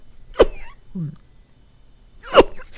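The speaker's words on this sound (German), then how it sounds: "Oh, ich muss niesen." Two sharp, close sneezes from a man at his microphone while playing Minecraft, one near the start and one near the end, with a brief throaty sound between them.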